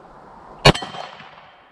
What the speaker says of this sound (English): Let's go for the MGM gong.